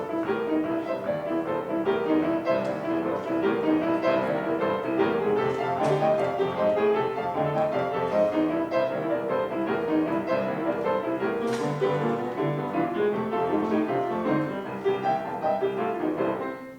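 Boogie-woogie on piano, a dense, continuous stream of rolling rhythmic notes over a steady bass pattern, played alone at an even volume throughout.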